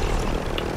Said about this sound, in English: I'm about to fly the helicopter right into him.